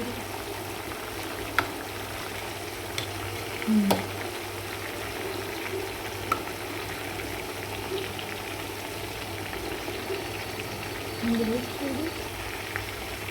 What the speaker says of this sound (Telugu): ఇప్పుడు మా చికెన్ ఫ్రై అయితే రెడీ అయిపోయింది